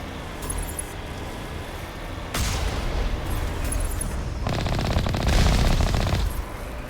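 Bursts of automatic gunfire in the video game Mass Effect Legendary Edition, rapid rattling volleys in two or three loud stretches separated by quieter gaps, close and harsh.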